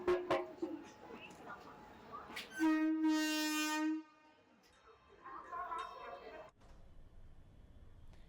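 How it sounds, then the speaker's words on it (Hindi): A special train pulls out of Khandwa railway station: a long, loud horn blast of about a second sounds between stretches of rail rumble and station noise, with voices audible in the background. "खंडवा रेलवे स्टेशन से स्पेशल ट्रेन द्वारा श्रद्धालु का जत्था अयोध्या के लिए रवाना हुआ।"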